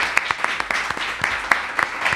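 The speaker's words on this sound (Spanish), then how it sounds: "Un aplauso para Laura, por favor" Steady applause from a crowd, dense clapping with sharp individual claps popping out irregularly, continuous throughout.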